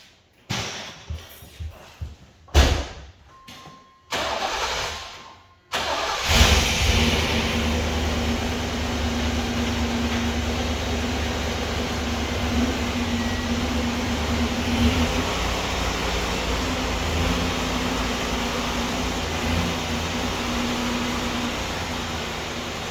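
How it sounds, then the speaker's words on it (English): A car fitted with a new QA1 Level 3 front suspension kit sets off on a test drive: a few sharp knocks and thumps from door and startup come first, then a steady road and engine drone with a faint tonal hum, without speech. "Let's go take it for a test cruise."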